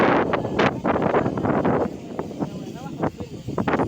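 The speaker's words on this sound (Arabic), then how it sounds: "الهوا هنا شديد قوي." Strong wind buffets the microphone in loud, gusting rumbles while people talk nearby.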